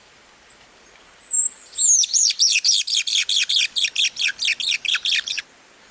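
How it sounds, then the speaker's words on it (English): A mated pair of California towhees sings a duet: a few thin high notes, then a rapid run of about fifteen loud, bright squeaky chirps in steady rhythm, fairly close and clear with no other sounds. "this is one of these sort of duet vocalizations where a mated pair will make both parts of this"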